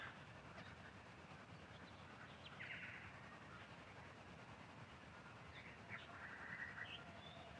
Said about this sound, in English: the next thing I added was this bird cricket ambient sound